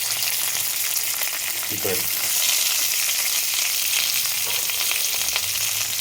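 Curry leaves frying in hot oil for a leek and fennel curry give a loud, bright, steady sizzle with a brief stir partway through, while a voice speaks faintly once.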